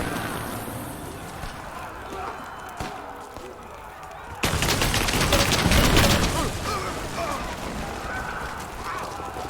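Gunfire in the game Rise of the Tomb Raider comes as a dense, loud burst of rapid shots after a quieter stretch, with voices talking over the battle.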